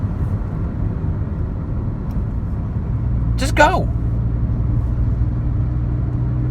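Steady low engine rumble and road hum fill a car's cabin in traffic, constant and close throughout, while someone speaks briefly in the middle.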